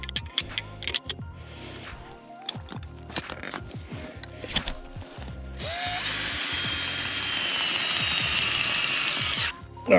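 Crunching footsteps on snowy lake ice give way to a power auger boring through the ice for winter ice fishing. The auger runs as a loud, steady whining drone for about four seconds, then cuts off abruptly.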